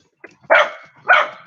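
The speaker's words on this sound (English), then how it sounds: "He's barking at Daisy for some reason." A dog barks twice in quick succession, each bark loud and close, with a short pause between them and no other noise around.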